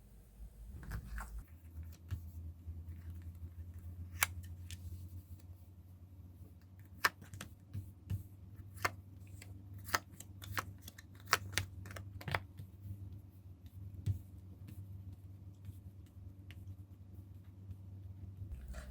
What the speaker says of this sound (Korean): 먼저 카드 정렬 해보도록 할게요.